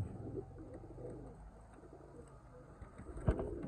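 Chinese pigeons coo softly in a low, murmuring rumble against faint background noise, with a brief sharper knock near the end.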